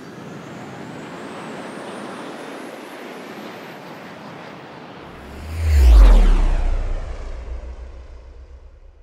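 An airplane takes off, its steady engine roar swelling to a loud, close pass with a falling pitch sweep before easing off into a lingering rumble.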